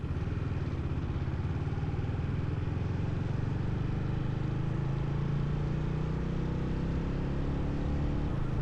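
Motorcycles on the Distinguished Gentleman's Ride rolling out from Barker's Pool through Sheffield city streets, a dense steady rumble of several engines with changing pitch as bikes pass, loud and continuous, no talk.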